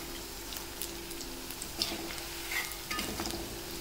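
Onion vada frying in hot oil while being turned over, a steady soft sizzle with faint stirring clinks and scrapes, close and alone.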